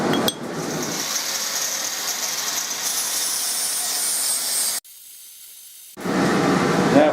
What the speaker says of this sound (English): which I'm going to do with a flat wheel on an angle grinder